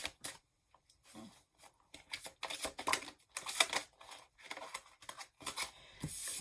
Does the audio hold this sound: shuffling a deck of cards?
yes